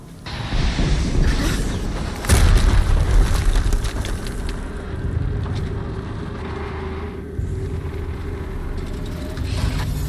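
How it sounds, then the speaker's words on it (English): A deep explosion booms in the video game Horizon Zero Dawn, a loud low blast that hits early and settles into a dense rumbling roar that lingers to the end. "Another explosion."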